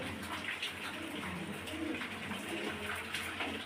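Fancy Andalusian and beauty pigeons coo softly and intermittently, faint against a constant hiss of background noise.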